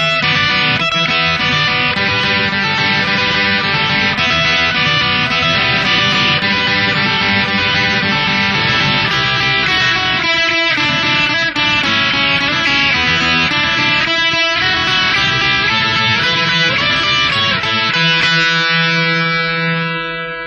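Electric guitar playing a riff at full speed, distorted with reverb and echo, continuous and loud, ending on a held ringing note.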